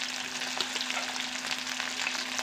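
Onion, green chili, garlic and curry leaves fry in a hot pan for beans bhaji, a soft, steady sizzle with faint stirring taps, fairly quiet and close, with no talk.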